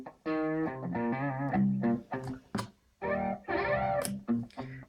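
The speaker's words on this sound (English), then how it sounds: "So we have here the distortion." Distorted guitar phrases from a Katana 50 amp's distortion effect, with a gritty, buzzing tone, play in short bursts separated by brief pauses.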